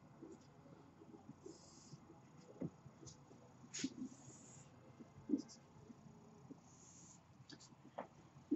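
Marker strokes on a board come as faint, short squeaks and taps in an irregular rhythm, with quiet breathing and soft background noise in a hushed room.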